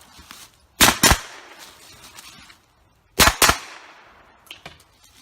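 An MP5K submachine gun fires two quick bursts of loud, sharp shots close by, with a fainter shot near the end, while targets are engaged under white light.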